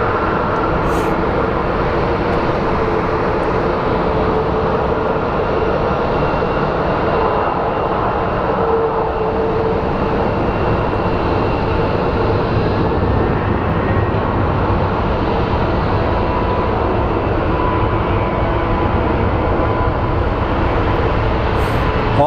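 An airliner's engines rumble near a runway at Phoenix Sky Harbor airport, a continuous steady drone with a broad roar that holds evenly throughout at moderate distance.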